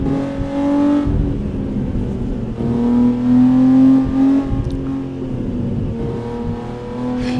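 Manual car engine in a racing video game revving hard, a loud, steady droning roar with rising and falling pitch as the gears change, close up and alone.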